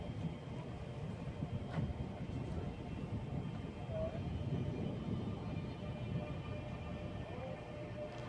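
Train departing Gillingham station on the Chatham Main Line, a steady low rumble and hum heard at some distance, with no voices.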